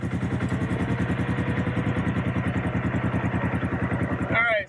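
Engine of a 2022 Polaris RS1 with 32-inch XTR tires running loud and close, a steady rapid pulsing drone that holds evenly, then rises sharply in pitch near the end as it pulls away.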